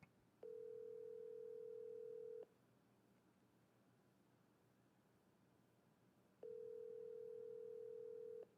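A telephone dial tone sounds during a call as two steady, clean two-second beeps several seconds apart, faint and clear against quiet background hiss.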